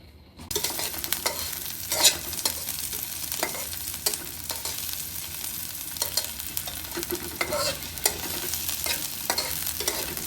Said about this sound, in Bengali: পাতিল তেল দিয়েছি আগে থেকে, পাতিলটা একটু নতুন এই জন্য আগে দিয়েছি। তারপরে এখানে তেলে দিলাম পেঁয়াজ,